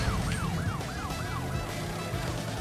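Police car sirens wail in the Area 51 level of Crash Bandicoot: Warped, a repeating rising-and-falling siren cycling steadily over a dense, loud game soundscape with a low rumble beneath.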